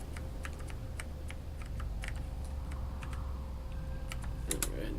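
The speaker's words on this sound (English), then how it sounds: "You probably hear me tapping on the keyboard." Rapid keyboard typing clatters in irregular bursts of sharp clicks, close and fairly quiet, over a steady low background hum and a faint electronic tone.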